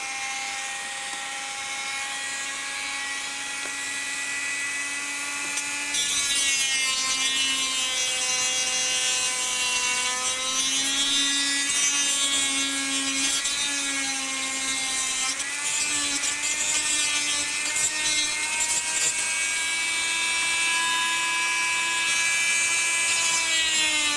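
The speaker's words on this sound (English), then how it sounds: "start the Dremel and we'll get that plastic removed now" A Dremel rotary tool fitted with a small drum sander grinds plastic on a bass reflex speaker fitting, a continuous high-pitched whine that dips and rises in pitch as the load changes across the whole stretch, with no talking.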